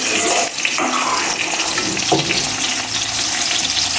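A pot of Thai soup with chicken and shrimp, seasoned with black pepper, is stirred, making a continuous watery bubbling and sloshing with soft stirring movements.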